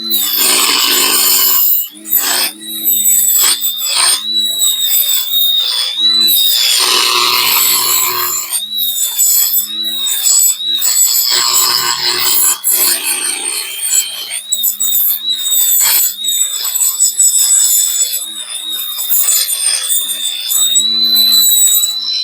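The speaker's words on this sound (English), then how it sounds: "this is what hoof trimming looks like" Goat hoof trimming on a stand, a steady close scraping and rasping that runs throughout with short breaks, plus a persistent high whine in the background.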